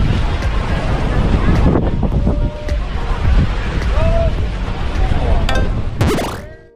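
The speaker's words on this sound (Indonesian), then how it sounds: "Anginnya kenceng banget." Strong gusts roar across the microphone at Tangkuban Perahu volcano in Lembang, Bandung, a loud buffeting wind rush that carries on throughout, with some faint voices in the background and a few brief clicks near the end.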